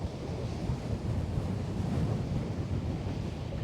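Steady, blustery wind buffets the microphone outdoors at a fishing spot, a continuous low roar with no pauses and no talk.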